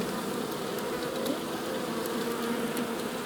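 Honeybees buzz inside a hive where varroa mites are being gnawed off, a dense, steady drone of many wings running throughout at close range with no voices.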